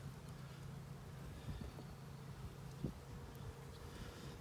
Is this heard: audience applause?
no